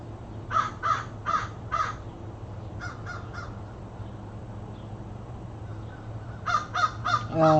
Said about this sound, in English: Listen to the sounds of those pretty birds.